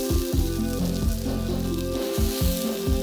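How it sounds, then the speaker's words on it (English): Cheese sizzles and fries in a hot pan under pressed-down ground beef taco shells, a steady loud crackling hiss with a few louder spitting bursts near the start and end. "You'll smell the cheese frying"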